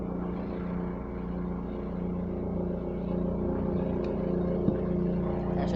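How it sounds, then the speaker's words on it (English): Helicopter flying overhead outdoors, a constant low engine and rotor drone of steady loudness that holds for several seconds with no talking over it. "That, I think that's a helicopter."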